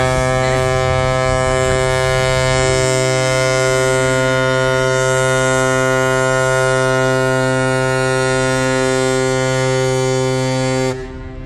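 An arriving ferry's horn blasts in one long, steady, loud tone lasting about eleven seconds at Zakynthos, deep and resonant with rich harmonics, then cuts off abruptly.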